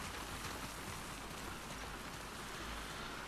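Steady, even rain hisses down in The Last of Us Part 2, a dense wash of falling drops with no pauses or voices.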